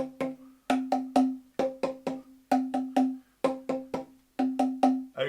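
A plastic boomwhacker tube with a cap fitted over its end is struck repeatedly in quick groups of three or four, each hit giving a short, hollow pitched tone close and alone, with brief pauses between the groups.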